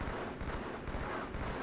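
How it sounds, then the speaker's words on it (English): Gunfire in a Halo 2 multiplayer match, a dense, continuous barrage of booming shots and blasts that fills the whole stretch at a steady loud level. "Oh, it's gunshot."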